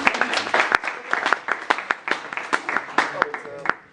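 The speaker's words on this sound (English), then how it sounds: "Hey, round of applause for Gustavo." Applause at a cryptography lecture, a small group clapping with distinct individual hand claps in an uneven, fairly close pattern that continues steadily for a few seconds.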